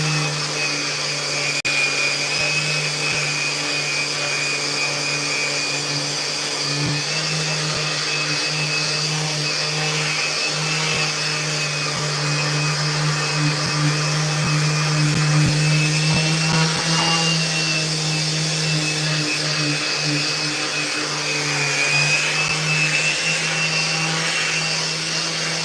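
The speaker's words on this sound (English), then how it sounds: "The reason that you're seeing me use a DeWalt here connected to a Festool vacuum" A DeWalt power sander hooked to a Festool vacuum drones steadily while shaping a skateboard deck in a workshop, a loud continuous motor whine with a constant hum that shifts slightly as pressure changes.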